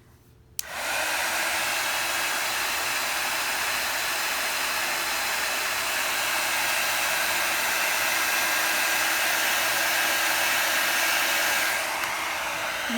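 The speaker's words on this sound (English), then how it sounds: "I have a small heat gun here. I'm going to turn it on and heat it up before I use it." A small heat gun used for handmade Christmas card making switches on with a click and runs as a loud, steady blowing hiss for about eleven seconds before cutting off, with no speech.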